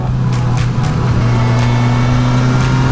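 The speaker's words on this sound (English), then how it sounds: "you get that good airbox, that good roar from the airbox" A 2021 Suzuki GSX-S 1000 motorcycle engine roars through its airbox, a loud, close, sustained droning growl that holds steady under acceleration.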